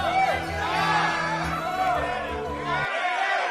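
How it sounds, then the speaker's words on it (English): A pirate crew shouts and whoops in a loud, ragged crowd cheer for their captain. Voices overlap throughout and then cut off abruptly near the end. "Don't cheer for me yet, man."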